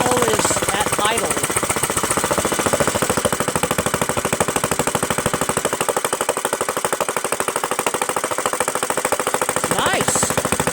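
The Kohler Command CV460S engine on a Craftsman LT1000 lawn tractor idles at low throttle with a steady, rapid chugging pulse, close and even throughout.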